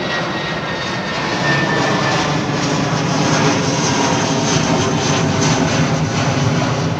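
A low-flying airliner departing Heathrow Airport roars loudly and steadily overhead, a dense sustained engine rumble that holds for the whole stretch with no voices.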